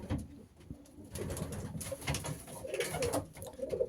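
Soft, low coos of breeding homing pigeons repeat over a steady background murmur, the throaty calls rising and falling at moderate distance.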